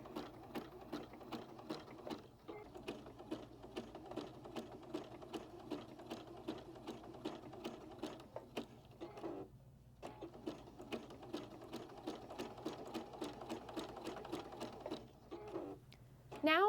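A Juki HZL-DX7 sewing machine stitches through layered rope for a coaster, running in steady rapid rhythmic bursts with brief pauses, close and moderately quiet.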